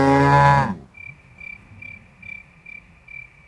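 A cow gives a loud, drawn-out moo close by, which stops abruptly after about half a second. Rhythmic insect chirps then pulse steadily in the quiet background.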